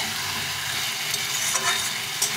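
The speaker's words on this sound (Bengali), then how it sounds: "এটাকে ভালো করে কষিয়ে নেব মশলার সঙ্গে।" Tender boiled bottle gourd being sautéed with spices in a pan, a steady crackling sizzle with a few soft scraping stirs, close and continuous.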